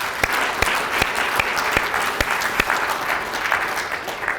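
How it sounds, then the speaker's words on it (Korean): An audience at a regional committee meeting claps together in a steady, dense burst of applause, with sharp individual claps standing out over the continuous roar throughout. "이분들한테 박수 한번 보내주시기 바랍니다."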